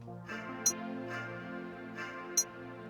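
A percussion sample sits inside a hip-hop beat over a sustained musical bed, with a few soft hits and two sharp high clicks spaced about two seconds apart.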